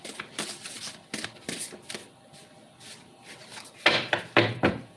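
Tarot cards being shuffled by hand make a run of crisp, papery riffles and soft taps, irregular bursts close to the mic that grow louder toward the end, with no talking.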